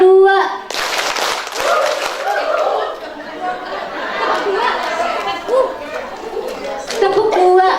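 An audience at a community health post (posyandu) session claps in rhythmic pairs of two claps, loud and near, over children's chatter and lively talk throughout.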